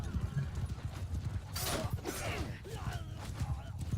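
Horse hooves galloping in a medieval battle video game, fast rhythmic clopping close by with a neigh or whinny in the middle and faint voices mixed in.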